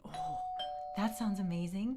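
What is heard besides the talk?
doorbell ringing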